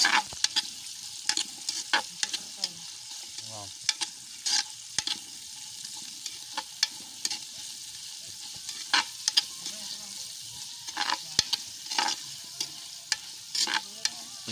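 Food sautés, sizzling and crackling in a hot pan over high flame, while a utensil scrapes and stirs in irregular clattering strokes, close and steady throughout.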